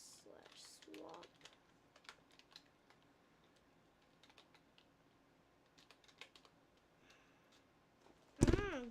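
Fingers tap out scattered bursts of clicks on a computer keyboard while installing Arch Linux, close and light, with pauses between runs, a few short vocal sounds near the start and a loud thump at the end.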